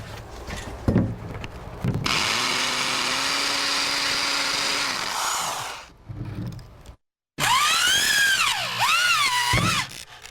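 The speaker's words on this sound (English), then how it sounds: "hold the plywood in place while you drill a starter hole through one of the initial holes" A power drill whirs loudly and grinds through plywood, stopping briefly, then spinning again with rising and falling whines.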